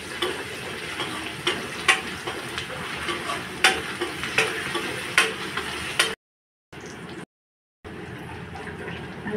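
Ginger garlic paste and kokum frying in a pan while making ola jawla (dried shrimp) curry, a steady sizzle with repeated stirring clicks and scrapes, then brief silent gaps and quieter frying after.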